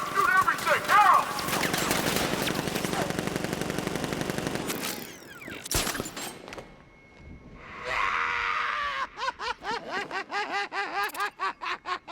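Guards open fire in Batman: Arkham Knight, a dense burst of automatic gunfire for about five seconds, then a sharp crack and chattering laugh-like voices in bursts toward the end.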